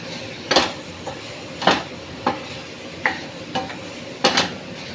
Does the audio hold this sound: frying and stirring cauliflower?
yes